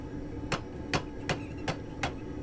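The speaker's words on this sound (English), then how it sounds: "I'm going to try and hammer it this time to get it close and bring that curve a little tighter" A blacksmith hammers a hot steel bar to tighten a bend, giving five sharp metallic strikes at a steady pace of roughly two per second, fairly close over a faint background hiss, with no talking.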